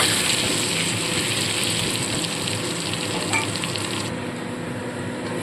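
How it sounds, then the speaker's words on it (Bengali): Potato pieces fry in hot oil with a little salt and turmeric, sizzling and crackling steadily up close at a moderate level, with faint stirring scrapes and no one speaking. "সামান্য লবণ দিয়ে ভালো করে আলুটা ভেজে নেব"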